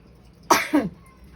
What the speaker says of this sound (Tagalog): Ubo na naman si tatay.